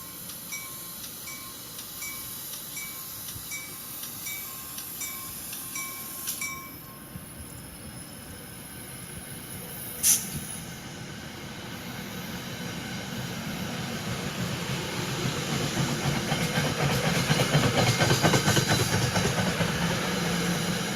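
Southbound passenger train with coaches of various vintages dating back to 1983 passing near Linden, a steady broad rumble building gradually and loudest toward the end, with a high whine and a brief sharp clank midway.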